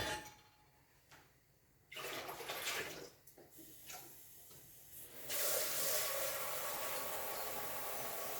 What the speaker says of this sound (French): Je vais remettre un peu d'eau froide.